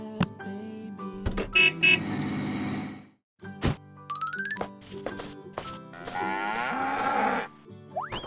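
A cartoon cow moos several times in long, loud, wavering calls, mixed with playful jingles, dings and other bright animated sound effects in a children's educational cartoon.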